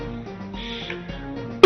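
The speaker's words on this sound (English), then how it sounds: "I was sneezing, now I'm coughing." A person who is sick gives one short, sharp cough at the very end, loud and close, after a stretch of quiet tonal background sound.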